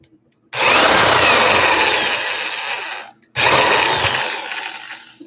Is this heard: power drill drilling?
yes